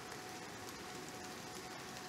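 Steady rain falls in the Nightingale video game, a faint, even hiss of drops on surfaces with no voices.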